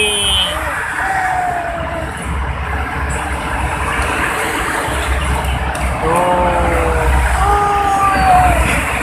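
Heavy late-afternoon traffic on a Jakarta toll road heard from a flyover, a continuous loud roar of cars, container trucks and buses with passing engine drones, people talking over it.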